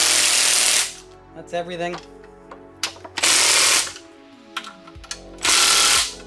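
A power tool tightens bolts while a blower with rotors is being assembled, firing three loud, harsh bursts of whirring and rattling, with short mechanical clicks and brief speech in the quieter gaps between them.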